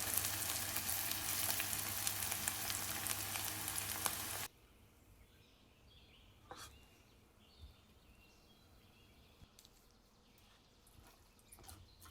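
Fresh chilies and curry leaves sauté in oil with a loud, bright sizzle that suddenly drops to a much quieter simmering crackle, with occasional light clinks.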